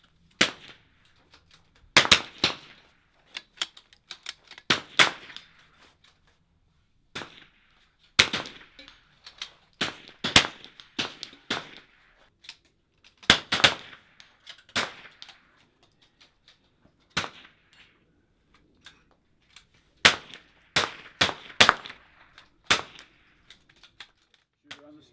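Rifle shots at an NRL22 shooting range match ring out in scattered single cracks and quick clusters, sharp and fairly close, with quiet gaps between them.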